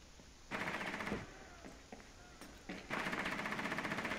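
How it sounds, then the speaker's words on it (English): Rapid automatic gunfire fires up through the floor in the Rainbow Six Siege video game, in two sustained bursts with a few short shots between them, loud and close. "Bandit is trying to shoot up at through the floor at you, Freewell."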